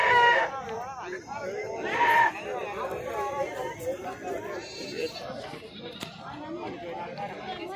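Goats bleating at a busy Telangana livestock market, with two loud bleats early and fainter calls under steady crowd chatter and nearby talk.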